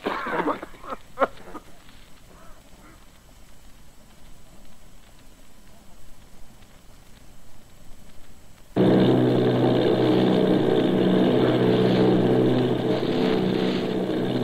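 Army bombing plane engine sound effect in the 1938 Mercury Theatre radio drama of The War of the Worlds: after a stretch of quiet talk, a loud, steady roaring drone cuts in abruptly and holds to the end.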